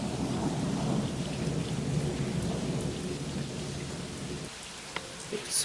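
A severe thunderstorm in Dubai brings loud, dense heavy rain with deep rolling thunder that fades after a few seconds, leaving the rain and a few sharp drips.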